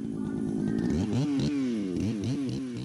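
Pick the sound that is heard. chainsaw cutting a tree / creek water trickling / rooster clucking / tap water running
chainsaw cutting a tree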